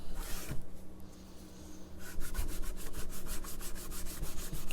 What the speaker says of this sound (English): you take a clean bit of cloth and just wipe off the excess